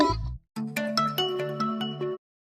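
A phone ringtone plays a bright, repeating melodic pattern for a couple of seconds after a brief low tone, then stops abruptly.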